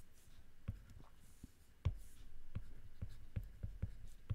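Stylus tapping and scratching across a tablet screen while handwriting in the GoodNotes note-taking app, a series of short, crisp clicks and strokes in an uneven rhythm, close and fairly quiet.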